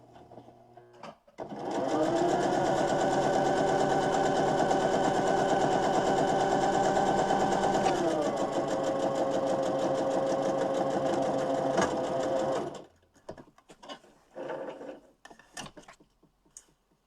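A sewing machine stitches a fabric mask in one long, loud run of fast, even whirring that changes pitch slightly partway through, then stops into quiet handling clicks and rustles.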